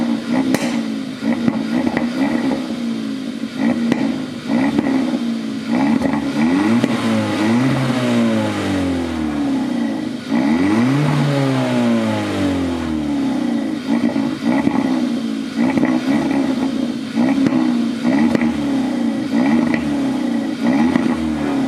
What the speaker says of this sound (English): Here's the stock exhaust for now